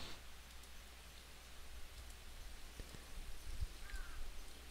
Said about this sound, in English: The rainstorm on this one, some of the rain and the water ones aren't that good.